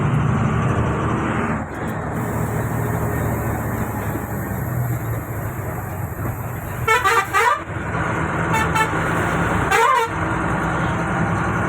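A vehicle travels along a winding road through thick cloud, with a low rumbling engine drone and several short vehicle horn blasts sounding near the end.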